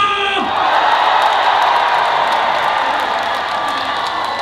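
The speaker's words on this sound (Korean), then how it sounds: "마지막으로 박수와 함성!" A festival concert audience at the Danyang Sobaeksan Royal Azalea Festival roars with continuous cheering, shouting and applause, a loud, sustained crowd wash that starts right after a brief bit of amplified sound and holds steady throughout.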